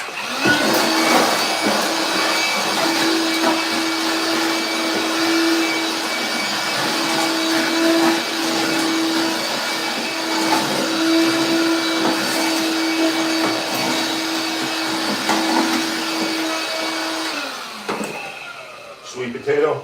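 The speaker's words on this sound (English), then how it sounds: "handy dandy vacuum" A vacuum cleaner whines loudly and steadily for about seventeen seconds while cleaning out a shower pan before tiling, with a slight shift in pitch as the nozzle moves. It then shuts off, followed by a few light knocks.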